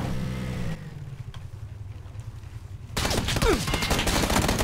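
Rapid bursts of automatic gunfire from PlayerUnknown's Battlegrounds, loud and dense, with a quieter lull in the middle before a heavier volley of shots returns over engine-like rumble.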